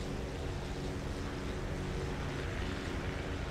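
A propeller plane engine in the video game Wings of Prey roars at full throttle, a dense, steady drone with low throbbing harmonics, unbroken and without speech.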